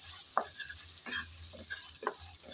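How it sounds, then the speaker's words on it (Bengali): Potatoes fry with salt and turmeric for an okra dish, a soft background sizzle broken by several scraping stirs of a spatula in the pan, fairly quiet and close. "লবণ আর হলুদ দিয়ে আলু ভালোভাবে ভেজে নিতে হবে।"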